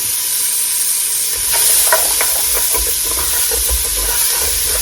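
Vegetables sauté in a pot with a small drop of grease, giving a steady close sizzle broken by scraping and stirring strokes of a utensil against the pot bottom; no one speaks.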